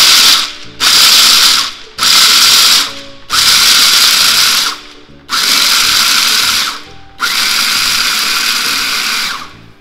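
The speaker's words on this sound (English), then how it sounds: "You grind it depending on how fine you want your peanuts to be." An electric grinder chops roasted peanuts in six loud, close bursts of harsh whirring and rattling, each lasting one to two seconds and separated by brief pauses.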